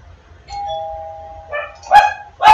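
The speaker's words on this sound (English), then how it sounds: "And someone is ringing the doorbell," A two-tone doorbell chime rings out, followed by two sharp, loud dog barks close by.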